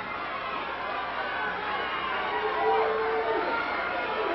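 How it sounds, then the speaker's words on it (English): Wrestling crowd roaring and chanting for Billy Jack Haynes during a main event bout against Kendo Nagasaki, a steady wash of shouting voices that swells slightly near the end, with a commentator talking over it. "The crowd is really, really, really pumped. They're shouting and they're chanting for Billy."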